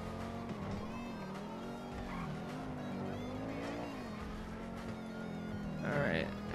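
A car racing through a GTA 5 Online time trial at Del Perro Pier, with a steady video-game engine drone rising and falling in pitch as it steers. Toward the end it swells louder with a brief squeal.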